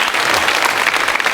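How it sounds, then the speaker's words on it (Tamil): A studio audience at a Tamil children's talk show bursts into loud, dense clapping that stays close and sustained from start to finish. "கைத்தட்டுங்க ராட்டி"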